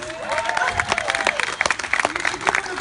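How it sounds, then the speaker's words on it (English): A crowd at a graduation ceremony breaks into dense, sustained applause, with a voice faintly audible over the clapping. "A particular round of applause"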